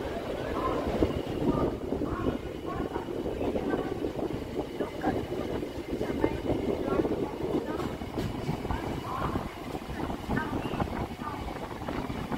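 A Sealdah–Dankuni local train rumbles steadily across the Bidhannagar Road rail bridge, with continuous wheel-on-rail clatter and wind buffeting the microphone from on board throughout.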